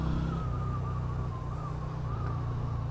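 A small Yamaha V Star 250 motorcycle engine drones steadily and loud while riding, a low continuous rumble with a faint shift in pitch midway.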